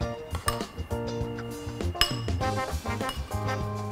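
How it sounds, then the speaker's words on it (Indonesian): Chicken pieces being stirred with seasoning in a bowl, heard as irregular clinks and scrapes of a utensil against the bowl, close and clear, with no talking. "Ini aduk dulu supaya ayamnya ada cita rasanya."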